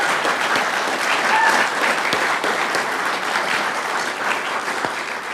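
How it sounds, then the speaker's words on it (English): A council meeting audience breaks into sustained applause, a dense, steady wash of many hands clapping close by that continues evenly for several seconds without talk. "So, yes, give her a great round of applause."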